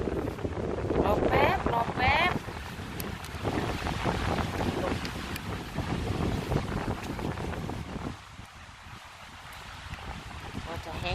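Outdoors while mushrooms are being gathered, wind blows hard across the microphone in rumbling, uneven gusts that buffet throughout and ease briefly before picking up again.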